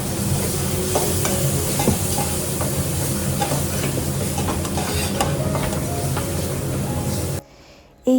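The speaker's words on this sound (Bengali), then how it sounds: "সেই চিকেনটা মিশিয়ে দিলেই হয়ে যাবে আজকে চিকেনের ঝোল আর রুটি" Marinated chicken is stirred into a sizzling tomato gravy for chicken curry, a steady close frying hiss with spoon scrapes and clinks that cuts out briefly near the end, no talking.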